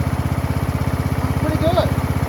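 A Craftsman LT1000 lawn tractor with a 17.5 hp Briggs & Stratton engine runs at low idle, a steady close-up low chugging with an even pulse and no voices.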